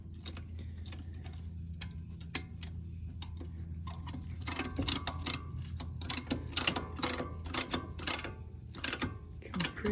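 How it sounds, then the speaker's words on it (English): Brake caliper compressor forcing back the piston on a small caliper during a track brake pad swap on an FD, heard as a run of sharp metallic clicks and ratcheting ticks that grow louder and denser in the second half, with no voices. "Get your caliper compressor of choice. Stick that thing in."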